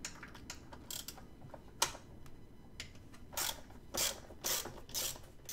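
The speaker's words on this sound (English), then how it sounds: "you got 5 bolts on either side, 8mm. Let's loosen all these up." A ratchet loosens 8mm intake manifold bolts on a 2000 Chevy Tahoe with a 5.3 engine, giving quiet bursts of rapid clicking in irregular spurts, louder toward the end, with faint shop background and no talk.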